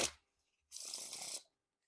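A short, crisp riffle shuffle of a playing-card deck fluttering together for under a second, preceded by a faint tap, otherwise quiet.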